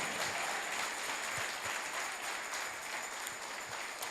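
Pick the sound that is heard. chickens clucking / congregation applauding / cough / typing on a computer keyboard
congregation applauding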